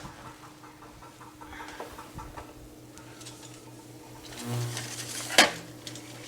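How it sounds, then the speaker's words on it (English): A pan of ratatouille being lifted out of a kitchen oven: soft shuffling and light scraping, then a sharp metallic clank of cookware near the end, all up close. "Now the ratatouille is ready, and I'm taking this out from the oven"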